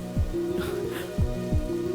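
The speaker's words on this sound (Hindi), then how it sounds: "तुम इस तरह बारिश में भीग रही हो" Heavy rain pours steadily as a dense, constant wash, with a few low dull thumps and a faint tonal hum running through, loud and near, without speech.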